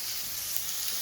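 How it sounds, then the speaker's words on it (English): A Thai BBQ hotpot indoors with pork, beef broth and river prawns, giving a brief, dense, bright sizzle of frying food, steady and close with no talking. "Satisfying sizzle"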